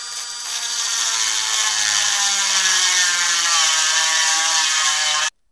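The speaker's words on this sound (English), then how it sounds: "I'm grinding a little dimple into the top of the axle." A power tool grinds a small dimple into the top of a steel axle, giving a loud, steady, high, bright whine that runs for about five seconds and then cuts off abruptly.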